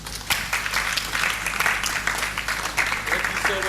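Audience applause at a talk on advertising, a dense burst of clapping that holds throughout, with a speaker's voice over it.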